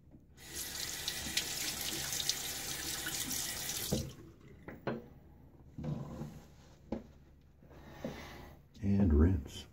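Razor rinsed under a running bathroom tap after a wet shave: steady gushing water for about four seconds, then quieter splashes, taps and knocks of the razor against the sink, ending with a louder rush of water.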